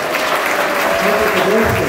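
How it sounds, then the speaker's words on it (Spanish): Loud, dense applause from a congregation during a wedding ceremony, continuous and close, with a voice faintly audible underneath. "Un aplauso al Señor."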